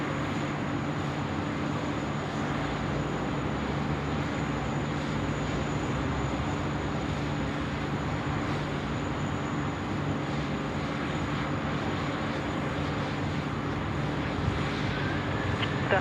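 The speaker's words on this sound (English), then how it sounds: "runway 16 right, clear for takeoff" A steady, loud jet engine roar fills the whole span as an airliner powers up for takeoff on runway 16 right at Sydney Airport on a wet day, with no voices heard.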